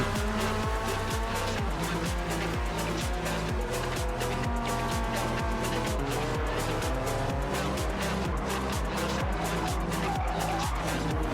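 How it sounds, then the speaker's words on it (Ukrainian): A race car engine in Gran Turismo 7 revs loud and close, with repeated rising surges as it gathers speed out of a corner and occasional tire squeal over the roar. "Набираю швидкість після повороту, розкручую двигун"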